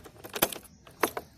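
A key is inserted into the lock of a 2017 Suzuki Burgman scooter, giving two sharp metallic jangles with faint rattling between them, close and fairly quiet.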